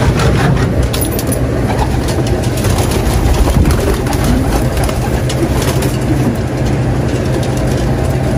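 Racing pigeons in a loft give a steady bed of low cooing and rustling that continues throughout, fairly loud and close, with no talk over it.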